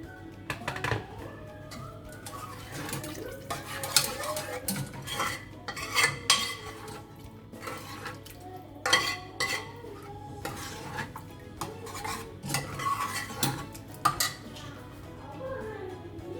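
Potatoes being partly mashed into a potato masala curry in a pan, a spoon or masher scraping and knocking against the metal in repeated irregular strokes, close and clear, with soft stirring between.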